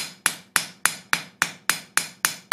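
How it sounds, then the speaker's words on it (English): Rounding hammer planishing the palm of a forged steel hand at a cooler forging temperature, nine sharp, evenly spaced metallic blows with ringing decay, close and loud, no talking. "I might come in with the rounding hammer at this colder temperature, planish that off just a little better, and work that palm out."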